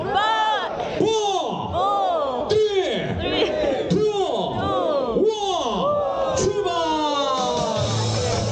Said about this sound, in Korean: 약속의 의미로 함성 10초간 발사!